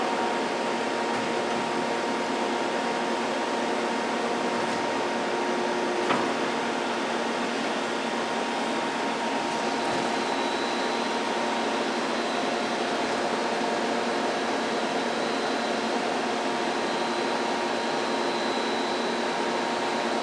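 Sunnen SV-3 vertical two-stage honing machine running an automatic cycle, a steady, even mechanical whir and hum that holds constant throughout, with only faint ticks and no change in level.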